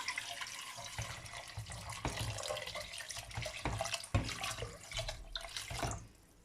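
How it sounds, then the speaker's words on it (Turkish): Water poured over lentils in a pressure cooker pot for lentil soup, a close continuous splashing pour with gurgling that stops abruptly near the end. "Üzerine suyunu ilave edelim."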